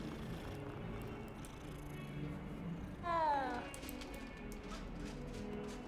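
A cat meows once in Hogwarts Legacy, a short rising-and-falling call heard clearly over steady game music and ambience.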